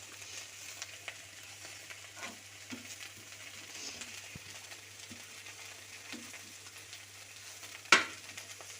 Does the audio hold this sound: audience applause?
no